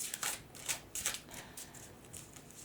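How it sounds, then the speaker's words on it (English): Tarot cards being shuffled up close, a series of crisp papery bursts in quick succession, then a softer rustle as the shuffling slows. "let's just shuffle this several more times."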